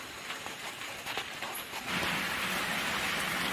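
Rain falls in a Thai forest near a small hut. A faint patter swells halfway through into a steady, dense hiss of rain.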